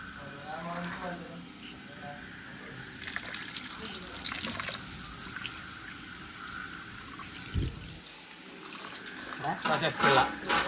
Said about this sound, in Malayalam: കുറച്ചുകൂടി വെള്ളം പാര്